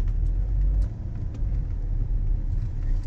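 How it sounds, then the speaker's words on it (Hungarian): A Mazda 5 2.0 petrol engine idles with a steady low rumble right after starting, the deep drone continuous and close throughout with a few faint clicks above it. "még gyorsan egy indítást még mutatunk nektek, hogy hogy indul az autó"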